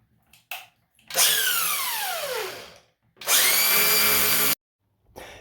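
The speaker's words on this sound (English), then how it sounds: "because the grinder won't reach, I finished the cut off with a Sawzall" A Sawzall reciprocating saw cuts through a stripped set screw on a Delta Monitor 1300 series faucet trim in two loud, close bursts of harsh high-pitched whining buzz, about two and one seconds long, separated by brief silence.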